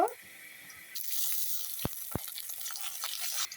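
Chopped onion, black cumin and spices fry in hot soybean oil, a soft steady sizzle at close range with a couple of sharp clinks from a utensil, fairly quiet overall.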